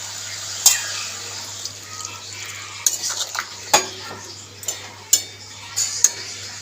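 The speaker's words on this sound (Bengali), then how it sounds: "আমি একদম অল্প করে জল দেব।" Vegetables, including drumstick stalks and prawns, sizzle in a pan as a little water is added. A soft hiss runs under a steady low hum, broken by several sharp clinks of a utensil against the pot.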